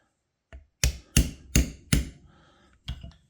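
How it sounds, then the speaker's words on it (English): A hammer taps while a Zebco Authentic 33T Triggerspin reel is serviced: six sharp, close metallic strikes, the first faint, then four fairly evenly spaced blows and a final one after a pause. "I'm going to use this one, a hammer right here."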